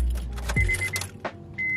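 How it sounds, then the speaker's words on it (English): A manual-transmission car, in neutral with brake and clutch pressed, is started with the key: a brief low rumble and a rising whine, then a quieter idle and a steady electronic chime near the end. "you turn the key"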